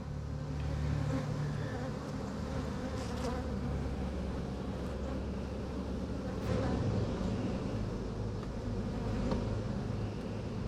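Honeybees buzzing steadily around an open hive, a continuous dense drone of many insects close by, with faint road traffic in the background.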